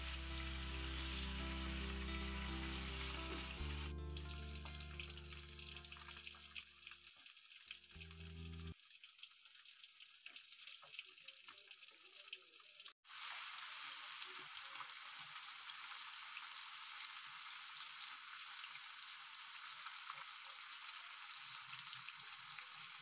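Small fish fry in hot oil in a pan, a steady broadband sizzle and crackle that runs on continuously, with a tonal background sound early on and a brief clatter partway through.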